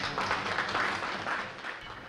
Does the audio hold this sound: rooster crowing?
no